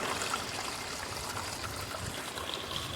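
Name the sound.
water flowing through riffles of a sluice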